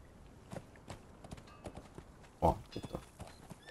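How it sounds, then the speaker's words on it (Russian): Horses in Conan Exiles moving about, irregular hoof clops and thuds at moderate distance with one louder stomp midway, no talk over them. "Лошади."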